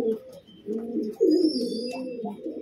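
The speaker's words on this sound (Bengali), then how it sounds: "এই যে নর পায়রাটা দেখুন" A male domestic pigeon, kept with others for breeding, gives low, throaty coos in a near, continuous run of rolling calls, with a faint chirp from another bird in the background.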